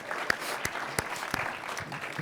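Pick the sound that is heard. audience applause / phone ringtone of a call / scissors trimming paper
audience applause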